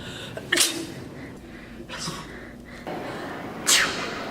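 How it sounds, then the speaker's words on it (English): Three sharp, bursting sneezes spaced apart, each a sudden loud explosive puff of breath over a low background murmur, fairly close to the listener. "One of the quickest ways to spread germs is through sneezes."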